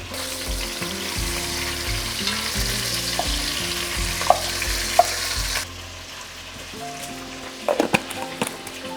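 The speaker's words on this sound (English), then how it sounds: "Now we'll cook the lamb chops for 4 to 5 minutes along with the whole spices." Lamb chops fry with whole spices in a pan, a loud dense sizzle under a low rhythmic background thump, easing off and quieting halfway through before a few clinks and scrapes of a utensil near the end.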